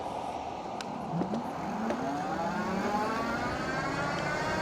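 An ENGWE M20 electric bike accelerates on twist throttle alone, its motor whine rising steadily in pitch over a constant rush of wind and road noise, with a few brief clicks early on.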